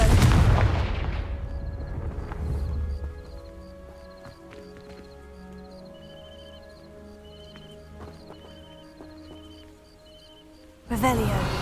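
A Confringo fire spell blasting dry vines in the video game Hogwarts Legacy: a sharp, loud burst opens, then decays into a ringing magical shimmer with sustained tones, and a second loud impact lands near the end.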